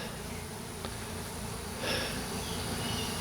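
Honey bees buzz around a hive during a colony transfer, with robber bees arriving, a soft steady hum with faint passing drones, low and continuous with no talking.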